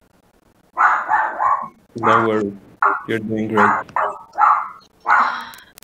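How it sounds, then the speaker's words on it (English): A dog barks in short repeated bursts close by, alternating with a person talking over and between the barks. "I'm sorry, my dog is barking."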